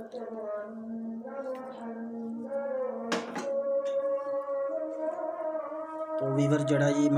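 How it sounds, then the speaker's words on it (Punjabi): Maghrib azan, the Islamic call to prayer, rings out as one sustained, melodic chanting voice, loud and unbroken for several seconds, with a brief sharp knock partway through. "ਅਜ਼ਾਨ ਹੋ ਲਵੇ ਚਲ ਕਰਨੇ ਵੇਟ"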